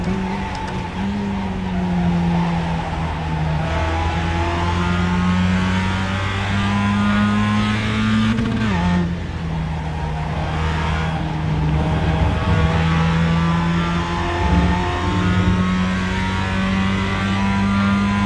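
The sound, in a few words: race car engine revving and shifting gears in iRacing video game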